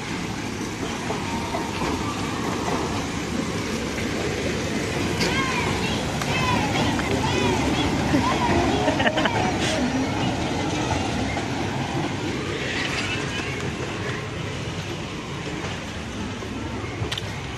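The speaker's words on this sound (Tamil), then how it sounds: "ட்ரெயின் வருதே." A train rolls along at the Chennai Rail Museum with a steady rumble and clatter of wheels, with people talking over it throughout.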